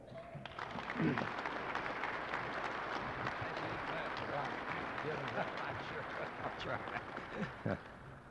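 An audience at a 1972 farmers union convention applauds to welcome a speaker, a steady wash of clapping from a large crowd, fairly faint and distant, with a few louder bursts and a voice over it.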